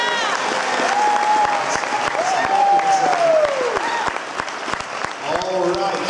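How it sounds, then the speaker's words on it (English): An audience applauds a nursery and preschool staff member before a kids' Christmas musical, steady clapping filling the room at a constant level while voices whoop and call out over it. "Can you give her a round of applause for all the work she did?"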